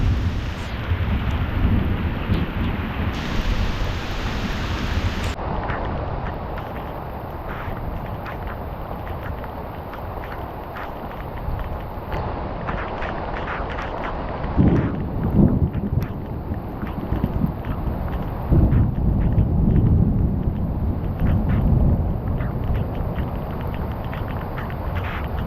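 Cold rain pours during a storm on an overnight backpacking trip in a central Pennsylvania forest, a dense continuous hiss with gusty rumbles and brief swells, no voices heard.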